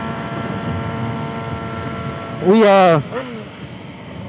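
A loud car exhaust roars up in a brief revving burst and drops off, over a steady engine drone; a voice speaks briefly.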